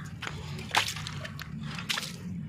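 Water is poured and splashed onto a polished Makrana marble slab, giving faint wet slaps and sloshes in two distinct bursts over a low steady background hum.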